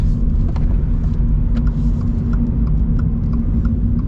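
A 2025 Toyota 86 manual sports car's engine pulls steadily under acceleration, a loud, continuous low rumble held at close range for about four seconds with no talk over it.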